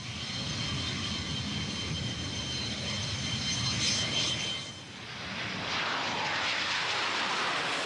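A MiG-29 or Su-27 jet fighter engine gives a steady, continuous roar that dips briefly midway and then swells back to full strength, heard alone without talk.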